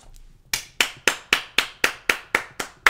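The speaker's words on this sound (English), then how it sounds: "Come on, let's clap." One person claps hands in a steady, even rhythm, about four sharp, close claps per second, nine in a row after a brief quiet start.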